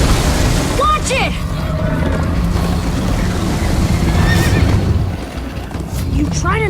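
A horse gallops and neighs during a chase in Minecraft Story Mode, Season 1 Episode 4. Sharp whinnies come several times over rushing hoof and movement noise, with voices talking throughout.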